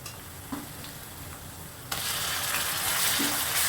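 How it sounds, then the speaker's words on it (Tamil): Tomatoes drop into a pan of sautéing onions, and the steady low sizzle suddenly swells into a louder, brighter hiss of frying that keeps going to the end, with no talking. "இப்போ தக்காளி சேர்க்குறேன்"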